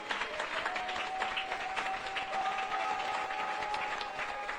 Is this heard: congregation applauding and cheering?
yes